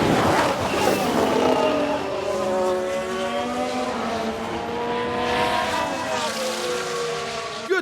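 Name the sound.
Formula 1 race cars from video game F1 Manager 22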